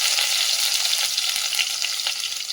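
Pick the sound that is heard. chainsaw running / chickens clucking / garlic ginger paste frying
garlic ginger paste frying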